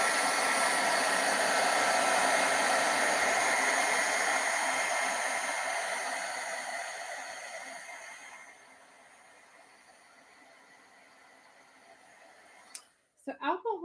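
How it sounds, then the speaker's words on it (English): A hair dryer blows steadily and loudly close by to dry alcohol ink stamping, then fades and drops to a low whir before it clicks off, with a brief voice at the very end. "give this a really good dry now"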